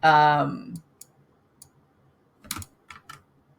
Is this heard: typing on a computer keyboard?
yes